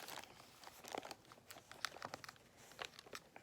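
Dirty plastic bags crinkle and crunch in quick, irregular bursts as they are crumpled up close, quiet and alone.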